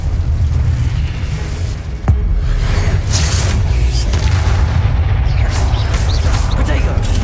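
A Confringo spell explosion in the video game Hogwarts Legacy, a sharp booming burst near the start followed by sustained rumbling, crackling combat noise with a voice heard over it.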